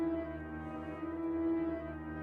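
Sustained reversed, reverberated piano layer in a higher register, forming a smooth, steady harmonic wash with one bright held tone on top, playing alone at low level for a couple of seconds.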